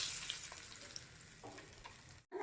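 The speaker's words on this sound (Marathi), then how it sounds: "आणि आता हा गरम तडका ह्या चटणीवरती द्यायचा आहे" Hot tempering poured over a fasting-style chutney gives a steady fry-like sizzle, rising briefly and breaking off near the end with no voices.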